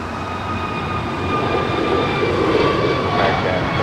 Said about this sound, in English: here's American Airlines 2532 heading to Washington, D.C. DCA A321neo